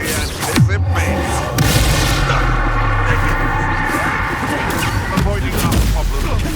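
Booming Bombarda blast explosions in Hogwarts Legacy, heavy low rumbles layered with magical whooshes, loud and continuous, with a voice talking underneath.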